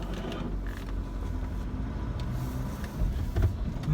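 A Honda CR-V with a 140 bhp diesel engine is heard from inside while it drives on the road, giving a steady low rumble with road noise, some creaks and a few light knocks.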